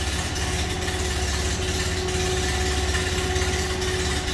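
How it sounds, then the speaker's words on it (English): A 1930 Ford Model A Tudor Sedan with a 201 cubic inch L-head inline six idles in a steady low, even chugging rumble, close and constant, with no talking. "Slip around to the back so you hear it run. Sounds like you expect Model A to."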